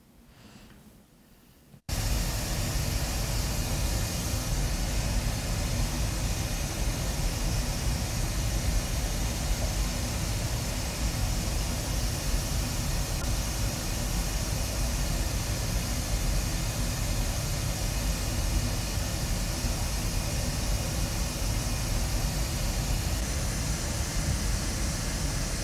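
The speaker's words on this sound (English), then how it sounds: "pull up a Pink Noise app" Pink noise from a phone generator app, starting abruptly after a short quiet moment and then holding as a loud, unchanging broadband hiss for more than twenty seconds.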